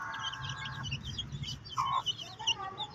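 A hen clucks and calls to her chicks as they forage outdoors on a farm, with soft bird chirps around the repeated clucks, at close range against background noise.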